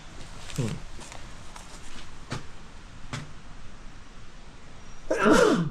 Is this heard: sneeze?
yes